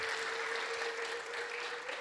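A church congregation clapping together, a dense, continuous patter of many hands at a moderate distance with no voices over it.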